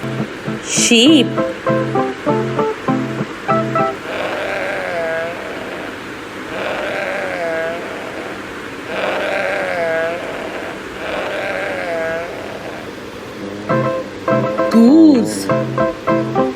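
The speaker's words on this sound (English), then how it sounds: "sheep," Sheep bleating on a farm, a series of wavering bleats repeated several times in the middle of the clip, with a voice speaking briefly before and after.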